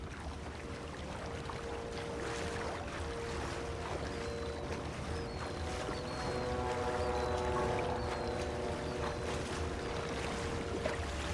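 Rowboat paddled quietly through calm water in a video game, with soft steady splashes and lapping under a sustained, tonal background score that runs throughout.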